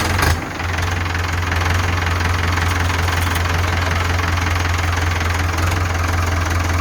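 An old Ford tractor's diesel engine idles with a steady low, knocking rumble, close and continuous, after a brief bump at the start.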